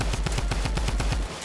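Rapid automatic gunfire from the Fortnite video game, a fast burst of roughly a dozen loud, evenly spaced shots lasting just over a second.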